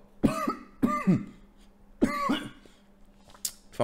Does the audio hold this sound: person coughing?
yes